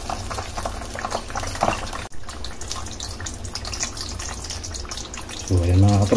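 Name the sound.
food frying in hot oil in a covered pan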